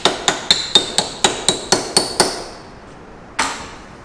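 A hammer taps a dust cap onto a Wright lawnmower in nine quick, evenly spaced metallic knocks. A pause follows, then one final sharper tap, all close and ringing briefly.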